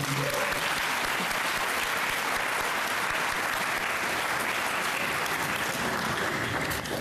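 Sustained audience applause fills the room at a relay survivor dinner, dense and even from start to finish.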